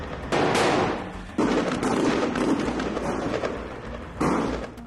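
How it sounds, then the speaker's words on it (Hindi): Bursts of rapid machine-gun fire in urban combat in Gaza, with loud sustained volleys starting and stopping in several bursts, echoing fusillades and thuds in between. "चारों तरफ ताबड़तोड़ गोलियों की आवाज गूंजने लगती है। ऐसा लगता है कि मानो मशीन गन से हमास के लड़ाके गोलियां बरसा रहे हों।"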